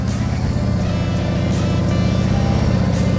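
A motorcycle engine idles and revs steadily under raised throttle during early riding practice, a low, even, continuous drone held close by for a few seconds.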